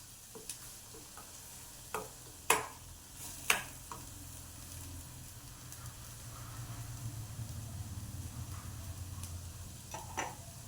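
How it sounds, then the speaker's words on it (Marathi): Cashew curry paste cooking in a pan, a continuous sizzle and bubbling with a few sharp spoon knocks and scrapes against the pan, close and moderately loud. "आपण ते पेस्ट अगदी शिजून घेणार आहे"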